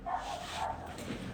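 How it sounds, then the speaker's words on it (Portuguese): Close dog barks and yips come in short bursts behind a live stream, with a faint indoor background. "Cachorro latindo."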